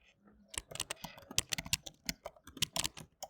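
Kotlin code goes in on a computer keyboard: quick irregular bursts of crisp, close key clicks with short pauses between runs, and no voices.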